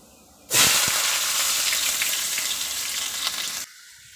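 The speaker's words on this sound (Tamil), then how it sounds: "கடுகு அருமையாக பொட்டிடிச்சு நாம் இன்னும் வெங்காயம் பச்சை மிளகா சேர்த்துக்கலாம்" Onions and green chillies drop into hot oil with mustard seeds and burst into a loud, close, broad sizzle that starts abruptly, holds for about three seconds, then cuts off.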